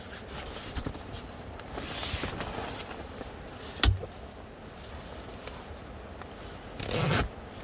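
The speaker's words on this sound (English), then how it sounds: "I got to run the zipper down the back side of it." A zipper on a rooftop tent insulation liner is pulled in short, quiet rasps close by, with a sharper click partway through and soft rubbing and handling sounds around it.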